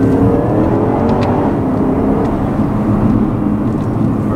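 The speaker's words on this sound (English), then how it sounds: "V8 does sound really nice. It has a really good growl to it." A 2011 Porsche Panamera Turbo's V8 drones steadily from close range, a dense low exhaust rumble that holds an even level throughout with no talking over it.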